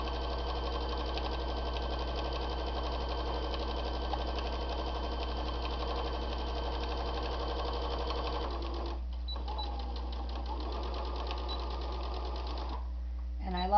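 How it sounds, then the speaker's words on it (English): A Brother sewing machine stitches a bowl cozy with a fast, even mechanical whir and a low steady hum. It runs close and continuously, then stops and starts briefly near the end, with a voice talking throughout. "I love this new Brothers machine that I got"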